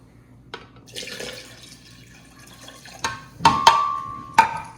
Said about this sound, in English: And we add water.